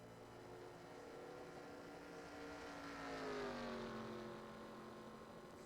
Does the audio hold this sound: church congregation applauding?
no